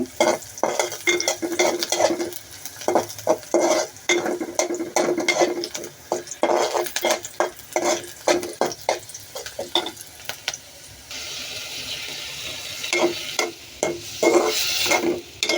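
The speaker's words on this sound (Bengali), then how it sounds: "আমি এখন পেঁয়াজ কলি ভাজি করতেছি।" Onion stalks fry in a pan while a utensil scrapes and stirs them in repeated bursts, the clatter rising and falling over a continuous sizzle, with a hissier, steadier frying stretch in the latter part.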